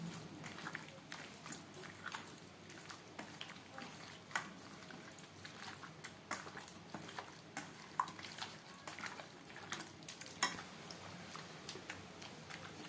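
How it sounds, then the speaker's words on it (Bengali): Chicken being mixed by hand with spices and sour yogurt for an aloo chicken curry, a steady run of soft, wet squelching and light ticking clicks, close and fairly quiet, with no talking. "সমস্ত মশলা দিয়ে ও টক দই দিয়ে চিকেন বেশ ভালো করে মেখে নেব"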